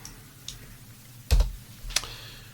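A few sparse, irregular keystrokes on a computer keyboard click quietly, with one louder cluster of taps near the middle.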